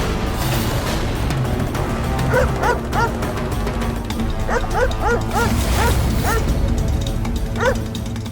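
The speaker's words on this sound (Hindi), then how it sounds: "ये कुत्ते की भौंकने की आवाज से डर रहा है" A dog barks repeatedly in quick yipping bursts, fairly close, over a steady background of music and ambient noise.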